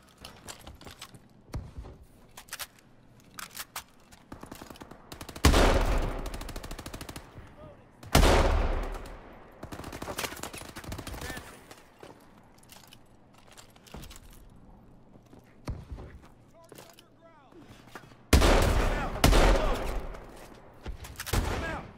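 Heavy automatic gunfire erupts in loud bursts in Black Ops 3, with sharp single shots scattered between quieter stretches and some speech in the background.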